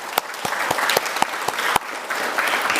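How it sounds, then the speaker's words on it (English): Steady applause from an audience at a paramedic cording ceremony for a graduating class, dense clapping with a few sharp, close claps standing out, sustained for the full length. "Big round of applause for these guys."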